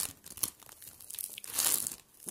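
Sticky toy hands peeled away from a surface, giving close, crackly crinkling and tearing noises in a few bursts, the loudest near the end, with no talking.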